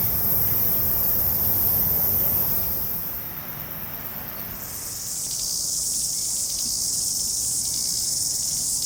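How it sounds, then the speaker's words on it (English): Cicadas buzz in a steady, high-pitched drone beside a lakefront in Rotorua, New Zealand. The chorus swells louder in the second half over a soft, low background rumble, with no talking. "And the cicadas. I think you can hear them"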